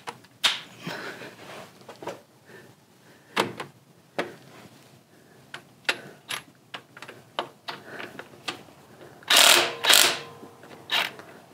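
A DeWalt power tool working a stubborn bolt loose on a first-generation Toyota Tacoma, heard as short sharp bursts of rattling impact hammering, repeated in irregular clusters at close range, with no voices.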